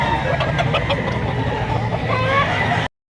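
Chickens cluck continuously and close by at a poultry auction market in Lipa, where a pullet is up for sale, over busy market noise. The sound cuts off abruptly at the end.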